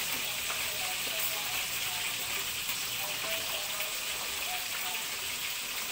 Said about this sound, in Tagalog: So medyo tumatalsik yung isda natin mga kabili